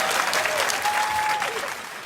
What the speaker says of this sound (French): il y a que des femmes qui applaudissent